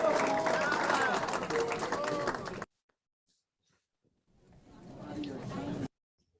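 A dense crowd at a live concert applauds with cheering and chatter mixed in, cut off abruptly, then swells back briefly before stopping again.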